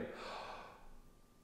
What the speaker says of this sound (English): I'm going to turn to the side and take a breath in.